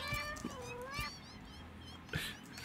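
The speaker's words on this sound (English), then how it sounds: "Everyone, run! It's the kittens!" Cartoonish cat meows from the video game Satisfactory, several short mewing calls with rising and falling pitch, one after another, moderately loud with a little background ambience.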